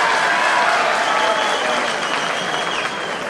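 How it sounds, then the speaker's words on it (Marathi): An outdoor crowd of farmers at Lasalgaon in Nashik breaks into loud, sustained applause, a dense wall of clapping that holds steady for several seconds and fades slightly toward the end. "टाळ्या वाजवा एकदा जोरात"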